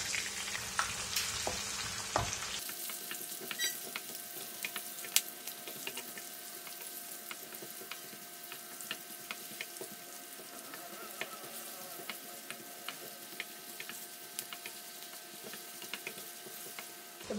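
Chopped coconut pieces fry in a pan of beef fry with green chillies, a steady close sizzle with stirring scrapes, starting with a louder burst before settling into continuous crackling.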